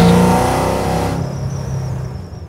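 A supercharged LS3 V8 in a 1969 Chevrolet Camaro RS/SS pro-touring restomod roars loudly up close at first, then settles into a steady engine drone with a thin whine above it.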